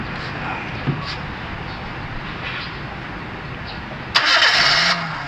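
A Perodua Myvi that is hard to start is cranked, a steady mid-pitched grinding churn that runs for several seconds, then the engine abruptly catches with a louder burst near the end.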